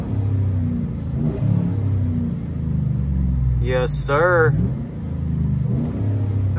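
A 2013 GMC Sierra truck engine rumbles low and steady while driving, with revs rising and falling under the cab; someone speaks briefly over the motor noise midway.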